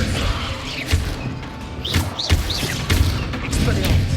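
The Levioso spell in Hogwarts Legacy is cast amid a burst of game effects: repeated thumps and whooshes with bright, sweeping chirps, all fairly loud and close.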